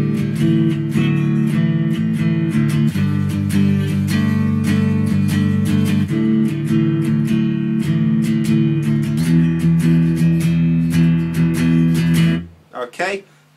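Guitar plays a bridge, a steady, loud strummed chord pattern with crisp rhythmic picking throughout, ending abruptly with a short bit of speech.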